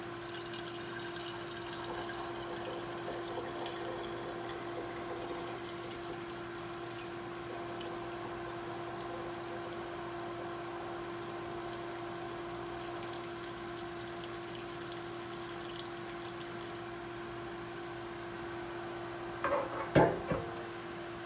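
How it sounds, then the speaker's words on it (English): Bone broth is poured through a sieve, a continuous soft trickle and splash of liquid running steadily over a constant low hum, ending in a few louder clunks. "So what I'm gonna do here is just pour this through the sieve."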